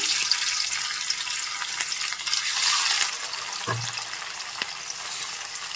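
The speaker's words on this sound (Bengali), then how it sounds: "এখন মাছগুলো এক এক করে দিয়ে দিচ্ছি ভেজে নেওয়ার জন্য।" Pieces of katla fish frying in a pan, a steady hiss of sizzling oil with watery crackle, close and moderately loud, with a few brief clinks of utensils partway through.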